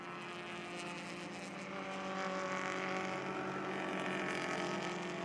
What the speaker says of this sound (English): Great listening to these cars as they go around the track. Classic sounds of these engines